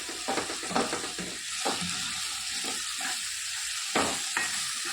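Spiced vegetables seasoned with asafoetida, garam masala and salt fry steadily in a pan while a spoon stirs them in scraping bursts over a constant sizzle, close and moderately loud.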